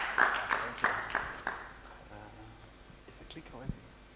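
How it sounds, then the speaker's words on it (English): A conference audience claps for a speaker taking the stage, a handful of loud, distinct claps that fade quickly into quiet room murmur. "Please, a round of applause for Edzai."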